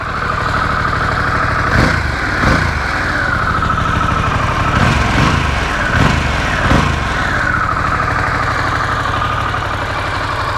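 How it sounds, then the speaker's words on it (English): A Harley-Davidson Pan America adventure motorcycle with stock exhaust rumbles at close range, its engine idling and swelling in several short revs before settling back to a steady idle. "Let's give her a rev or two."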